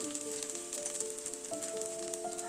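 Chopped garlic, garlic paste and chopped onion fry in oil in a pan, giving a close, steady sizzle with light crackles and a faint background tone.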